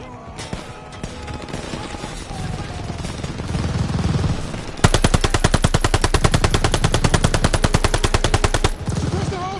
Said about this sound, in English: Suppress the half-track MG!